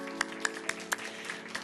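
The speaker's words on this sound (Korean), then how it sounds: "우리 하나님께 큰 영광의 박수 올려드리겠습니다." A congregation claps during a worship service in a church, with a few scattered sharp claps standing out over a low sustained hum of the room, brief and fairly quiet.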